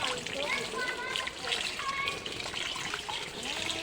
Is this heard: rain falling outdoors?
no